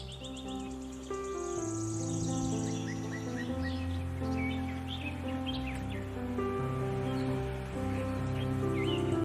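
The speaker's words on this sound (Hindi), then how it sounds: "सुबह सुबह का टाइम है तो जो पक्षियों की चहचहाट है उसकी भी लगातार आवाज़ें हमारी कान में आ रही हैं।" Birds chirp and call in the early morning in a mountain village, many scattered tweets and trills layered over a steady background with tonal hum, fairly close and continuous throughout, no talking.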